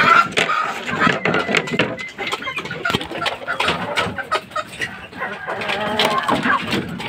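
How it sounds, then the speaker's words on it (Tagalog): Several hens cluck and chatter nearby in a loose, irregular stream of short calls, with a person talking among them. "Itong mga inahin din to."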